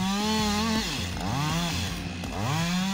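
A chainsaw cuts into a large tree, its engine whining loud and close. The pitch sags and rises again twice as the chain bites and frees, with no talk.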